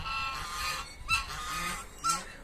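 Geese on a farm yard, two ganders and one goose, honk in short nasal calls, with a couple of sharper honks standing out over a low background, fairly close.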